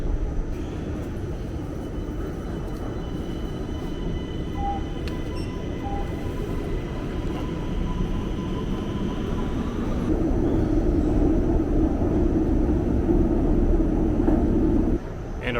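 A Sofia metro train ride gives a steady, loud rumbling roar inside the carriage that swells a little partway through and continues without pause, with no voices.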